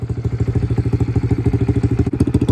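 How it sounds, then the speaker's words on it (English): An XPRO 125cc dirt bike engine running at half choke right after starting, a loud, close, rapid steady thumping idle with regular pulsing exhaust beats throughout. "Started dirt bike, second time it started"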